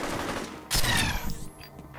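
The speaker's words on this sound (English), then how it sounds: "one of them is shooting at me" Enemy gunfire in the first-person shooter F.E.A.R., a sharp burst of shots cracking out in the middle of steady game noise, loud and close, with scattered smaller impacts trailing after.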